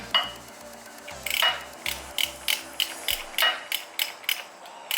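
Motorcycle oil drain bolt being tightened with a wrench under the bike, giving a string of short, sharp metallic ratcheting clicks in quick regular bursts, close and fairly loud, with no talking.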